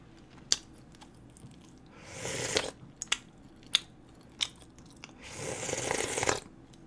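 Someone eating soupy tteokbokki, with soft wet chewing, sharp clicks of utensils or teeth, and two longer bursts of slurping or squishy mouth sounds, close and quiet without talking.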